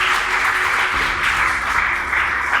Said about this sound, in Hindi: सर के लिए एक बार जोरदार तालियां बजा दीजिए